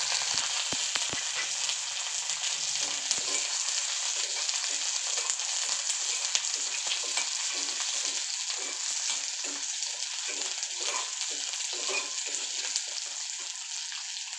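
Small shallots sizzle steadily in hot oil with garlic already browned in the pan, a continuous close frying crackle with faint stirring, cooking toward a fish curry; no one speaks.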